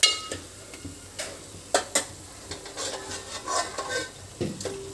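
Masala for mutton rassa fries in oil in a pan with a soft, steady sizzle, while a spoon repeatedly scrapes and clinks against the metal in irregular strokes up close.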